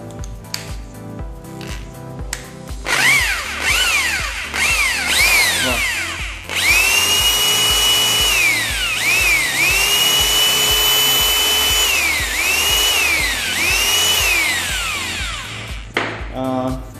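A Bosch GBH 220 22 mm rotary hammer drill whines loudly, its motor pitch repeatedly rising and falling as it revs up and bites, running nearby for a long stretch.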